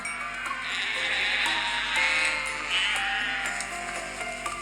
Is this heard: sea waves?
no